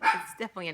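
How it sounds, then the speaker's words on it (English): A dog barks a few times close by, overlapping a person talking indoors. "Sorry, that's my dog barking."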